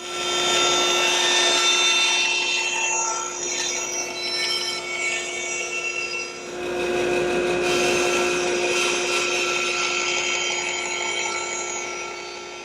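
A power saw cuts wood with the miter gauge set at 45 degrees, a steady loud whine running for most of the stretch with a brief dip in the middle before the cut continues.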